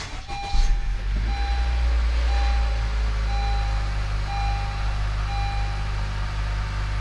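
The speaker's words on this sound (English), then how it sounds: "we are going to go ahead and start the vehicle." A 2017–2022 Honda CR-V, raised on jack stands, cranks briefly and catches, then settles into a steady, close idle with a low hum and faint whining tones.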